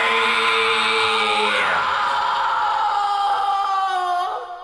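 A drawn-out, high-pitched scream from a band's drummer in a song, a strained wail that bends downward and holds, loud over sustained distorted guitar before trailing off.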